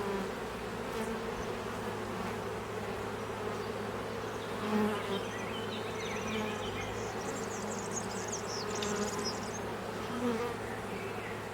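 A thick, continuous drone of honeybees fills the air while a colony is split to make an artificial swarm, close and steady with faint higher-pitched whines drifting over it.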